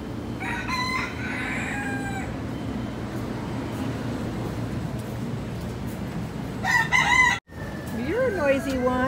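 A rooster crows loudly at the start, then background clucking fills the middle, and a second crow rises near the end, with faint farmyard noise throughout.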